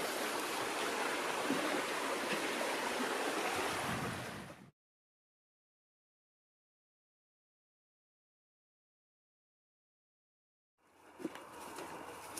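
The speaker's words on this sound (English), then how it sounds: "Thank you, Sawmill Creek, for letting me bathe my feet in you." Sawmill Creek on Minnesota's North Shore rushes in a steady, close stream of flowing water for about four and a half seconds, falls silent, then resumes briefly near the end.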